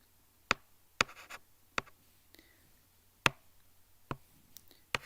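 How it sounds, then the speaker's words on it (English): Handwriting on paper while working through a chemistry exam question: faint pen strokes and sharp taps at irregular intervals, quiet and close, with no talk. "Electrons, I am going to write in negative"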